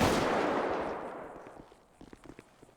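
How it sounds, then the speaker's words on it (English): Gunfire in a GTA V police roleplay session: a loud burst at the start decaying into a long rumbling tail, followed by several sharper, quieter shots and impacts toward the end. "We hear gunshots going off."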